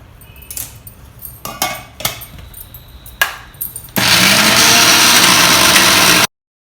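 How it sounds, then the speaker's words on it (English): Kitchen blender grinds green chillies and ginger into a paste, starting after a few clinks and knocks of the jar being set up, then a loud, steady motor whir for over two seconds that cuts off abruptly. "The green chilli and ginger have been blended together."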